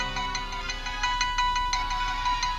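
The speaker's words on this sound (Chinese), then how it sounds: "你先接电话。" A mobile phone ringtone plays indoors, a bright repeating electronic melody with regular pulsing notes, steady and fairly close with no talking over it.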